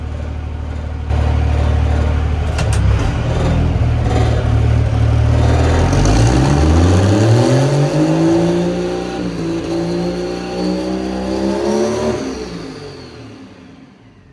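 A pro street truck engine idles with a deep, loud rumble, then revs up and climbs in pitch before easing back down and fading toward the end, with no talking over it.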